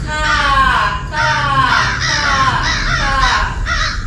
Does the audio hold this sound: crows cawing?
yes